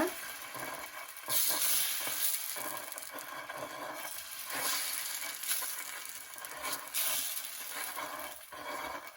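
Atta flour dosa batter ladled onto a hot pan sizzles and hisses steadily, with brighter bursts where more batter meets the surface and a softer spreading hiss in between; nobody speaks.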